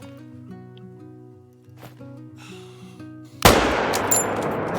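Sudden burst of rapid gunfire from a crocodile-hunting video game erupts loud and close after a stretch of quiet, layered game music, then keeps rattling to the end.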